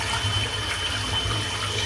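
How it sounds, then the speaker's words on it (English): Water runs steadily from a tap as a shaving brush is rinsed under it, a continuous close splashing hiss with no talk. "Just giving the brush a good rinse out."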